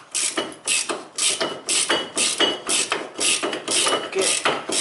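A ratchet loosens brake caliper bolts on a 2002–2010 Toyota Corolla, a close, rhythmic series of about a dozen quick metallic clicking bursts with brief gaps between strokes.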